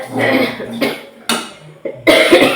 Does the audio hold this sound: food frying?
no